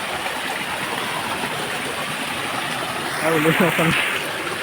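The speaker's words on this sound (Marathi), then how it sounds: "छोटा धबधबा बघू शकता मित्रांनो. बघा वॉटरफॉल" A small waterfall in a Konkan jungle gives a steady, broadband rush of falling water, close and constant, with a man's brief speech near the end over it.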